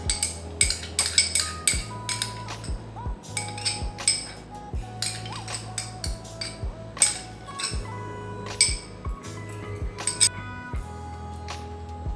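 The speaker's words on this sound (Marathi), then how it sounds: "आता यामध्ये दोन आंब्याचा गर घाला आणि एकदा तीन ते चार वेळा छान असे फेटून घ्या" A steel whisk beats chakka and mango pulp for amrakhand in a bowl, giving rapid repeated metallic clinks and scrapes in uneven bursts, close and fairly loud with no talking.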